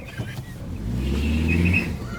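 A Chrysler PT Cruiser GT accelerates away from a drive-through, its engine note swelling and rising in pitch over about two seconds, close by and fairly loud.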